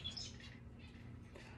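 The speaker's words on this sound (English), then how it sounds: "Oh, the birds you hear that make loud noises, that is the male birds." Male zebra finches chirp and call from indoors, a couple of short bright notes near the start over quiet background hum.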